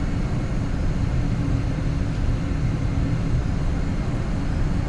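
A McDonnell F3H Demon jet in Flight Simulator X gives a loud, steady broadband roar with a heavy low rumble that stays even and constant throughout.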